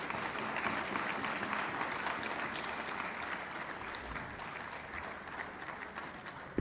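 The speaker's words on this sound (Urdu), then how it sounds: "جناب علی اعتزاز احسن صاحب آئے ہیں، ذرا تالیاں بجا کے ان کا استقبال ہونا چاہیے" Crowd applause at an outdoor political rally in Lahore, welcoming a speaker to the stage: dense, sustained clapping from many hands, steady and loud throughout with no talk over it.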